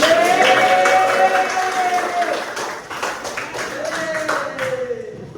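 Children in a classroom perform a rhythmic clapping chant about math, sung voices leading patterned bursts of claps that repeat in a steady beat, loud and close.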